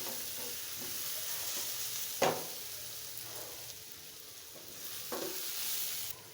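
Raw papaya with shrimp fries in a pan with a steady broadband sizzle, broken by a few sharp spatula scrapes and stirs, close and fairly even throughout.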